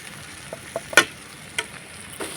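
Vegetables sautéing with turmeric, chilli, cumin and garam masala in a pan make a soft, quiet sizzle, broken by a few sharp clinks and scrapes of a spoon against the pan, with no voices.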